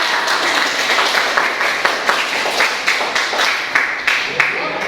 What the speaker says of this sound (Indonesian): Wah, tepuk tangan dong buat Yodihan.